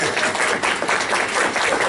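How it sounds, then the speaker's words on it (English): An audience at a comic convention educators panel claps briefly for the panelists, a dense burst of applause filling the room with no voices over it. "Applause is welcome."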